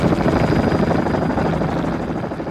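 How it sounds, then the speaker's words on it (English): A helicopter's rotor blades start up, giving a loud, close, continuous rhythmic thumping chop with a deep engine drone underneath, steady from start to finish and free of speech. "the helicopter rotor blades started up"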